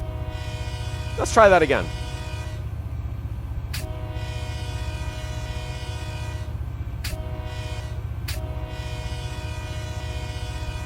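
A diesel locomotive horn in Run8 Train Simulator blares at a road crossing near Mojave, one short sweeping blast followed by a steady engine drone with brief clicks, while a voice briefly speaks.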